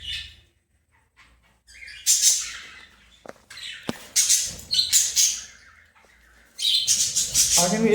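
Young pet birds about two to three months old call in bursts of high chirps and squawks, with short quiet gaps between flurries and a busier stretch of overlapping calls at the end.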